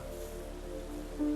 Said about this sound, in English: rain sound, which I actually really love.